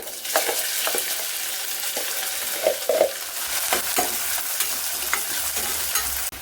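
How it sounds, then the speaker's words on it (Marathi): Onion sautés in hot oil with a bay leaf in a cooker, a crackling sizzle with repeated spoon scrapes and knocks against the pot, close by and without voices. "कांदा छान 1 मिनिटभर परतून घेतला आहे."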